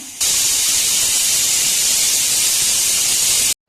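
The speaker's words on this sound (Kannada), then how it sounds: "2 ವಿಷಲ್ ಆಗ್ತಾ ಇದೆ" The second whistle of a pressure cooker cooking egg pudina bath, a sharp, loud, continuous jet of hissing steam that starts suddenly and stops dead after about three seconds.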